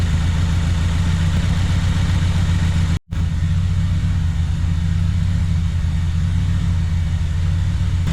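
A 2016 Subaru WRX idles steadily with its mass airflow sensor disconnected, giving a loud, even low rumble that runs for about eight seconds with one sharp dropout near the three-second mark.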